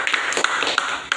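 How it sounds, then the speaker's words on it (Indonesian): Fifth-grade pupils in an Indonesian primary classroom clapping hands together, a quick burst of close, crisp claps in an irregular patter. "Tepuk tangan."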